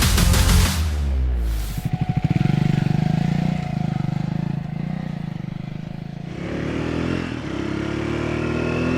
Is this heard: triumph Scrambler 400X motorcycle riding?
yes